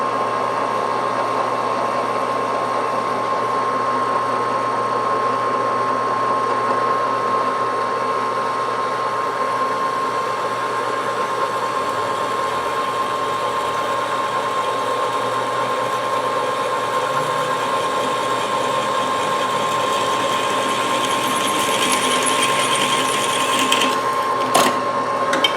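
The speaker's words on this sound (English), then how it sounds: "I'll go back with a 1/4 inch reamer and get it exactly a 1/4 inch" A 1/4 inch reamer works a hole under a steady, continuous motor hum with a constant whine, running evenly throughout and brightening slightly near the end.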